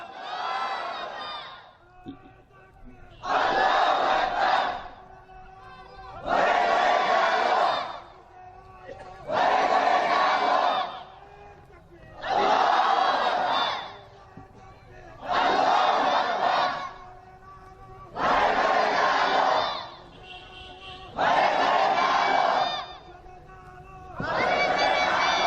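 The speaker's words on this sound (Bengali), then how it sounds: "তাকবীর মারো।" A large crowd at a religious sermon gathering shouts takbir in unison, about eight loud, roaring cries of Allahu Akbar in a regular rhythm, separated by brief quieter gaps with murmuring.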